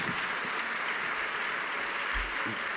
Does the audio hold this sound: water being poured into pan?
no